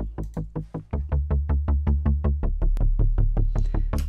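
A bass sound from a Prophet Rev2 synthesizer plays a fast, even run of plucked, punchy notes that decay quickly. The line drops lower partway through and is heard alone without voices.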